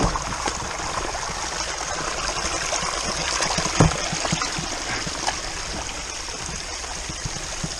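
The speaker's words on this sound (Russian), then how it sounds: "Вот такой чудесный маленький водопадик, малозаметный. Водопады на этой реке сначала слышатся, а потом уже видятся." A small, inconspicuous waterfall on the Dniester river roars as a steady, close wash of falling water, with one brief louder splash partway through and no voices.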